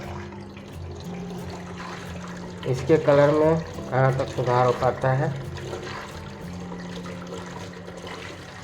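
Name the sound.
water flowing under pressure to clean RO purifier part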